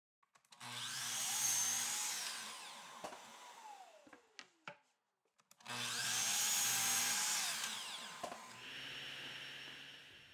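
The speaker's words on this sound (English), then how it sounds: "Over at the miter saw, I'll cross cut it at 36." Miter saw crosscutting a 2x4 board, two separate cuts each with the motor spinning up, a loud whining bite through the wood, then winding down, close by with no speech.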